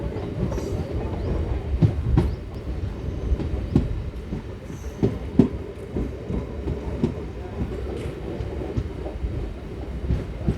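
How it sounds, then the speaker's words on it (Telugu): A MEMU express train on the Machilipatnam to Gudivada line pulls out of Pedana station, rumbling loudly with rhythmic clickety-clack wheel beats and rattling carriages heard from on board, with no talking. "పెడన నుంచి మన ట్రైన్ అయితే బయలుదేరిపోయింది"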